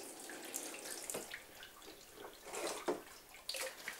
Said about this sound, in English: I'm going to turn off the water and see what I've got